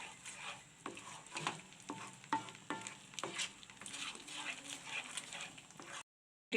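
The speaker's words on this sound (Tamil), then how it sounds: "இதையும் சேர்த்து நல்லா கைவிடாமல் கிளறி விடுங்க." A spoon scrapes and stirs thick coconut milk halwa in a pan with coconut oil, making soft repeated strokes and taps over a faint sizzle, fairly quiet, ending in sudden silence.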